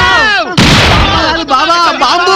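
A loud bomb blast bursts out in a comedy movie scene, a sudden heavy boom laid over excited voices, with strained shouting running before and after it.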